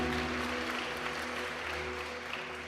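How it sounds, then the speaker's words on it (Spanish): Steady applause from a crowd, a dense wash of clapping that holds at an even level throughout, somewhat distant. "No le dé miedo a aplaudirle, porque el aplauso es para Él"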